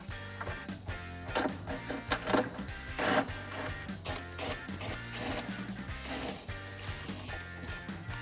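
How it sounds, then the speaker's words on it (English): A 10mm open wrench and a 10mm socket snug down a nut on a Tacoma cold air intake, giving quiet, close ratcheting clicks and metallic taps in an irregular rhythm. "we're going to get our 10mm open wrench and get that on the other side of the nut, along with our 10mm socket,"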